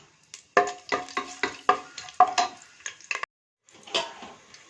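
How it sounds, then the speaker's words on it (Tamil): Cloves, cinnamon, cardamom and bay leaf are tempered in hot oil in a pan for veg biryani. A close series of sharp clinks and scrapes from stirring sounds against the pan, with a faint sizzle between strokes and no talking. "எண்ணெயில் கிராம்பு, பட்டை, கிராம்பு, ஏலக்காய், பிரிஞ்சி இலை எல்லாம் போட்டு தாளிச்சிக்கலாம்."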